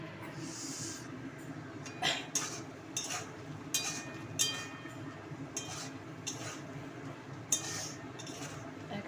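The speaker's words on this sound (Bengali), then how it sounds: "এখানে মশলাটা কষাচ্ছি আমি" Spice paste stirred and sautéed in a pan, a metal spoon clinking and scraping against the pan in irregular strokes over a low background hum; close and moderately quiet.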